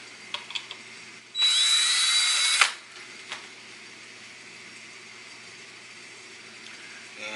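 A power drill drives a screw into a guitar in one steady burst of about a second, loud and close, then stops, with quiet room tone before and after.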